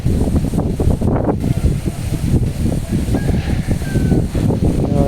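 Strong wind blowing outdoors on a farm, a loud, close rumbling buffet that gusts continuously across the microphone throughout.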